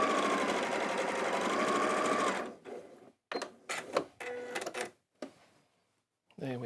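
A domestic sewing machine stitches a fabric seam in a steady whirring run for about two seconds, then stops, followed by someone talking over short handling sounds.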